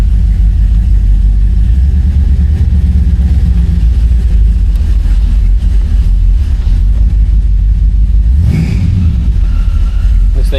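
A 1966 Chevrolet Impala SS engine drones loudly and steadily from inside the cabin while driving, a heavy, constant low rumble with a brief swell of revving near the end.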